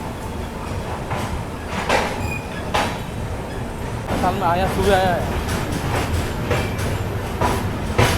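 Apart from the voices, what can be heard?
Guwahati Sairang Express train departing Guwahati station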